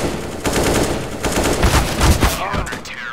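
Rapid bursts of automatic gunfire from a Counter-Strike Wingman 2v2 match, loud and close, firing in quick strings over a few seconds.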